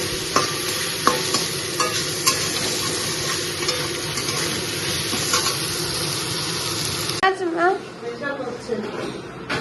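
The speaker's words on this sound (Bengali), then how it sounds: "আর একটু কষিয়ে নিয়ে ডাল ছেড়ে দেবো।" A spiced mixture sizzles and is stirred steadily in a pan, a loud continuous fry with scraping strokes. The sizzle then drops away abruptly as dal is added, leaving softer bubbling and stirring near the end.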